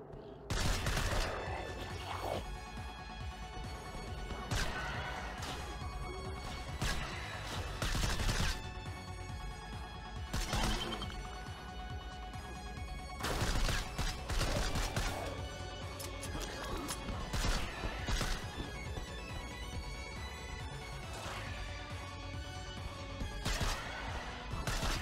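STRAFE first-person shooter gunfire: sustained, loud volleys of shots and crashing impacts that keep repeating throughout, layered over a steady tonal game soundtrack.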